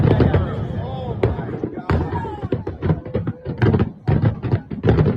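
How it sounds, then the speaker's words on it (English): Fireworks and firecrackers crackle and bang in rapid, irregular bursts at a U.S. Army birthday celebration, loud and fairly close, with voices talking underneath. "Just a little finale for the fireworks."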